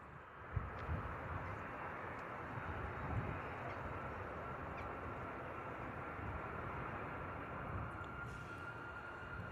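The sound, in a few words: TUI Boeing 737 departing Bristol Airport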